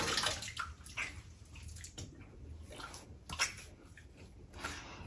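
Water runs and splashes from a bathroom tap while a man rinses his face after shaving, a steady close wash broken by a few louder splashes and slaps.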